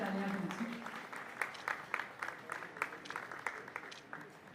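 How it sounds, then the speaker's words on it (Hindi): Audience applause at a Hindi-language memorial awards ceremony, a dense patter of clapping with a few sharper claps standing out, moderately loud and steady for several seconds, with a brief tone at the start. "हमारी जोरदार तालियां बजा।"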